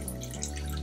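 Liquid draining from grain during home brewing, a steady close trickle and dripping over a low hum, no speech.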